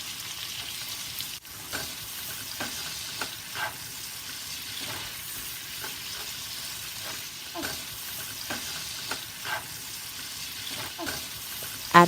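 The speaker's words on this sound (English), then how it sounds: "Add 1 small chopped onion and cook for about 3 to 4 minutes." A small chopped onion softens in a pan for a creamy shrimp and vegetable Alfredo pasta, giving a continuous, moderate sizzle over about twelve seconds, broken by occasional stirring clicks and scrapes.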